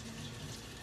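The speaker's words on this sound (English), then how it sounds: "I'm gonna rinse that off." Fennel rinsed under a running kitchen tap, a steady close-up stream of water splashing into a sink without pause for the whole moment.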